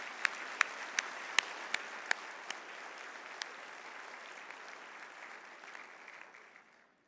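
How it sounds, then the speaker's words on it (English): Audience applause at a FIRST Championship Dean's List luncheon, starting with scattered sharp claps and settling into a steady, moderately distant round that fades out over about seven seconds. "So a huge round of applause"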